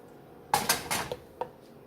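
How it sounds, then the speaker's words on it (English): A spoon scraping and knocking inside a pot of gravy for an Irish beef pot roast, several quick clinks and scrapes in a short burst followed by one last tap, close and fairly crisp. "stir up the gravy in there"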